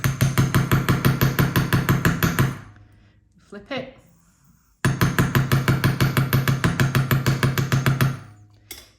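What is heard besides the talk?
hammering wire hoops on a bench block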